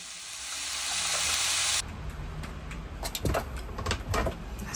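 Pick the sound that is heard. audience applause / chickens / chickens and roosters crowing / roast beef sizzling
roast beef sizzling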